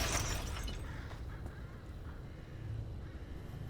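A crow calls once in a faint, brief, harsh burst in the game Pacific Drive, then fades into a low ambient hum; no speech.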